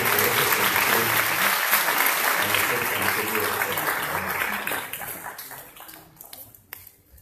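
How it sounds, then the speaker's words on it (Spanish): Audience applause at the close of a legal lecture on amparo proceedings, a loud dense burst of clapping that gradually thins out and fades into a few scattered claps. "solicito de nueva cuenta que le den un fuerte aplauso"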